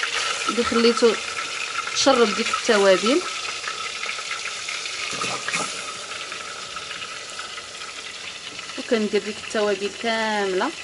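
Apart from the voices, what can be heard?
meat frying in oil with spices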